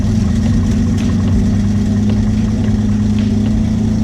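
A car engine idles steadily while its fuel mixture is being tuned, a continuous low, even hum held close and loud for the whole stretch with no revving.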